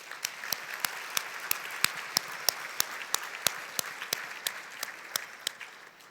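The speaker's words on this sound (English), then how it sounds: "One more round of applause," Sparse applause at an awards ceremony, a few people clapping with distinct, evenly spaced sharp claps over a soft background of lighter clapping, moderately close and alone without talk.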